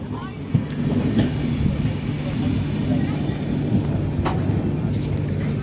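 A crowded passenger train rolls along with a steady low rumble and rhythmic clatter throughout, close and continuous, with faint voices in the background.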